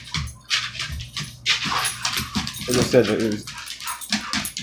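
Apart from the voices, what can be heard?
dogs playing and barking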